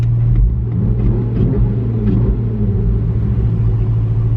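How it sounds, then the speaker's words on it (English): A deep, steady exhaust rumble from an idling Jeep Wrangler with a Flowmaster Flow Pro aftermarket exhaust, loud and close, with a low throbbing drone throughout. "this Flow Pro exhaust"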